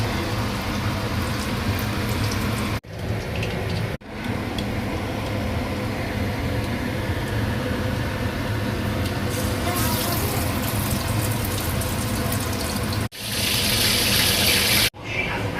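Lote fish pieces dipped in batter and half-fried in hot oil at an Indian street food stall, giving a steady, loud broadband sizzle with brief breaks and bursts of brighter crackling, while voices talk over it.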